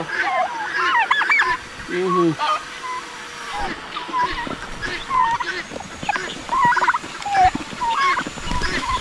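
Turkeys gobble repeatedly in bursts, with a busy mix of fowl calls and human voices talking throughout.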